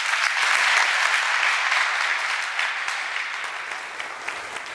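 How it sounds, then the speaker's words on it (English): An audience at a morning session of talks applauds steadily and fairly loudly after a speaker finishes, a dense even patter of many hands that slowly fades over a few seconds, with no voices over it. "the final round of applause there for Madhu as well."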